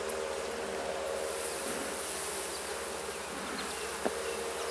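A crowded colony of honeybees hums steadily inside an opened beehive, a dense continuous buzz that holds close and even throughout, with one brief click near the end.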